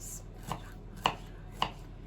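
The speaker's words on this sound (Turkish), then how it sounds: "Sarımsaklarımızı küçük küçük doğrayacağız." Three sharp knife chops through garlic on a cutting board, spaced about half a second apart, close and crisp against a quiet background.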